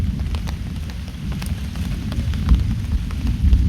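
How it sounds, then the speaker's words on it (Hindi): Heavy rain pours steadily over a riverbank village on the Ganga, a dense continuous hiss with scattered close drips and patters, loud and with no voices. "और बारिश कंटिन्यू होती ही जा रही है"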